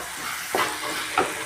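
Tomatoes and green chilies with ginger garlic paste sautéing in a pan, a steady soft sizzle with two brief louder scraping stirs about half a second apart, close and alone.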